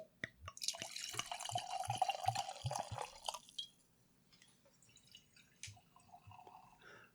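Sake from Shiga glugs and splashes into a glass in a steady close pour lasting a few seconds, followed by fainter drips and small trickles before fading.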